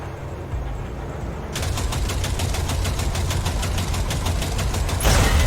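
Rapid automatic gunfire rattles in a long continuous stream while shooting at a train coupler in the Cyberpunk video game, loud and close over a low rumbling engine drone, ending with a sharper burst.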